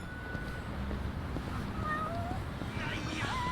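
Cat meows sound in Yakuza: Like a Dragon, several short rising mews over a steady game background hum, moderately loud and close.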